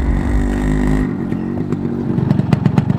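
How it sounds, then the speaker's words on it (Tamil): A two-stroke Yamaha RX100 motorcycle in a film teaser rumbles in a loud, deep idle, then the engine cuts to sharp, rattling revs and pops that grow punchier toward the end, with no talk. "அந்த பைக் சவுண்ட கேட்கும் போது Yamaha RX100 மாதிரி தான் இருக்கு."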